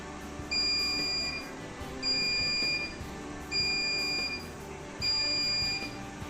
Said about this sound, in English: the IR sensor will sense and the buzzer will buzz